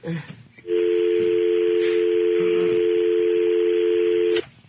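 A telephone keypad tone: one loud, steady dual-pitched beep held for about four seconds on its own, with brief faint noises before and after.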